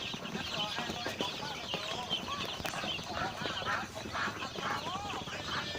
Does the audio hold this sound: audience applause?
no